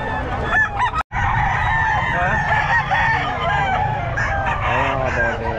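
Sweater gamefowl stag rooster crowing repeatedly at a Bulacan pet market, loud and close, with clucking and other birds in a busy background.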